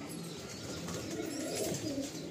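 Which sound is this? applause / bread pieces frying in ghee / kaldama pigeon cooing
kaldama pigeon cooing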